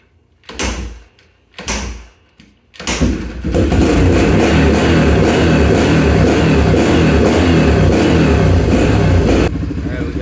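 A Yamaha TTR125 dirt bike fitted with a Mikuni TM24 carburetor starts up after a few loud clunks and settles into a steady, close, loud idle lasting several seconds before cutting off, with no talking.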